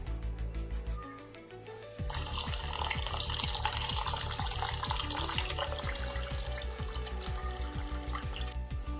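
Dal lentils being rinsed in water for a rice dish, with a steady splashing and running-water rush near the microphone that grows louder after a brief dip, plus repeated swishing pulses as the lentils are stirred.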